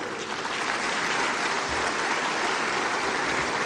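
An audience at the 30th Afreximbank Annual Meetings applauds the President of Ghana, steady loud clapping from a large hall crowd that continues without a break.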